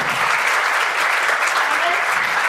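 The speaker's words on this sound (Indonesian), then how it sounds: "oke tepuk tangan buat para Dewan Juri" A crowd at a closing ceremony in Surabaya applauds the jury steadily and loudly, a continuous wash of clapping that holds for a couple of seconds.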